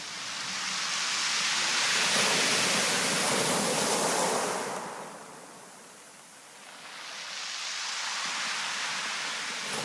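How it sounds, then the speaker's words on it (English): Ocean waves crashing onto the shore, a loud broad wash of surf that swells, fades briefly, then builds again, close and continuous with no voices. "the crashing of the waves formed the rhythm"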